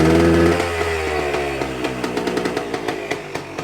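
A freshly kick-started two-stroke engine with a small exhaust leak runs loud and close, its harmonic drone shifting in pitch before settling into rapid, uneven popping pulses.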